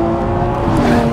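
Lamborghini Aventador SVJ V12 changing up from second to third gear, a loud close engine roar with a brief jolt in tone as the shift lands, no talk.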